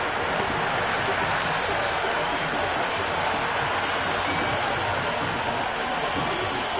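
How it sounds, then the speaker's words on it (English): A packed stadium crowd at a T20 World Cup cricket match between Zimbabwe and West Indies roars continuously, a dense, sustained wall of cheering with no breaks. "It's the most enthusiastic crowd you could ever see right now"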